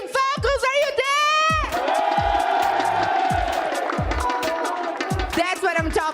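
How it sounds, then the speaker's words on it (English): Large esports crowd at a grand final cheering for Team Falcons, a loud sustained roar with rhythmic chant pulses and shouts under heavy bass thumps, with an announcer talking over it. "Team Falcons crowd are going crazy and they are chanting Falcons, Falcons"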